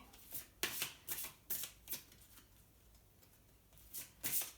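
Oracle cards from a dragon-themed deck being handled and shuffled, a series of soft papery riffles and slaps in uneven bursts, close and quiet with no talking.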